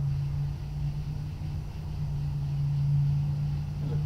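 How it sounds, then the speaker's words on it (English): A low, steady vehicle rumble builds and swells slightly as a car passes nearby, with a sustained engine hum and no voices. "There's a car going by that's loud."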